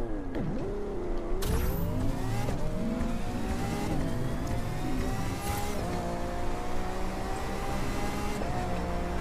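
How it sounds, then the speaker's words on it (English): In a racing video game, a car engine revs hard as it accelerates toward top speed, climbing through repeated gear shifts in a loud, continuous whine. "So here's 0-60 on this car and top speed."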